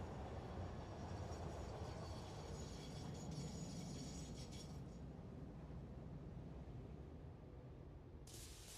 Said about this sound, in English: So many trains.